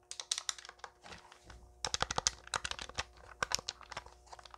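Clicky plastic buttons and a directional pad on an inexpensive SF2000 retro handheld console are pressed in quick irregular bursts, sharp close taps with short pauses between them, with no talking.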